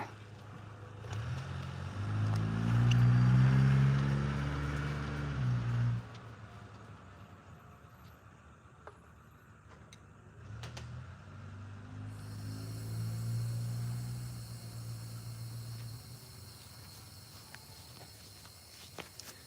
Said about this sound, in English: You can hear the compressor.